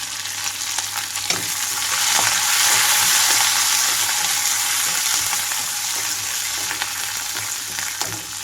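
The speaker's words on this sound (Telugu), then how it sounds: "పచ్చిమిరపకాయ అల్లం కొంచెం వేగిన తర్వాత ఇందులోకి ఉల్లిపాయలు కూడా వేసుకోవాలి" Green chillies, a piece of ginger and curry leaves fry in oil in a pan for buttermilk upma, giving a steady, close hiss that swells in the middle and carries light stirring clicks, with no talk.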